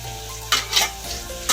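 Meat fries and is stirred in a pan with onions and spices, a steady close sizzle broken by a few scraping stirs.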